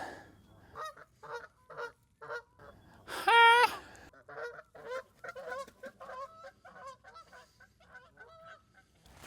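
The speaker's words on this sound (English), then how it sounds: "I am one with the geese." A flock of geese on an uninhabited island honking nearby in repeated bursts, with one loud, drawn-out honk partway through and softer overlapping calls around it.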